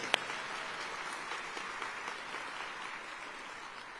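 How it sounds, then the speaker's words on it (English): An audience at a State of the City event claps for the council members, a steady wash of applause from a sizable crowd that stays even throughout, with one sharp knock near the start. "let's give it up one more time for all the council members here tonight"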